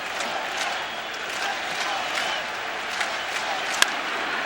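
Big crowd murmuring steadily in the stands during the 4th inning of a Mets–Braves baseball game at Shea Stadium, with scattered shouts and one sharp crack rising above the continuous roar.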